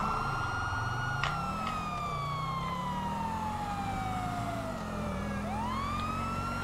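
A police car siren in the video game GTA V wails steadily with long sweeping tones, joined by a second siren, over a low engine hum, fairly faint and with no talking.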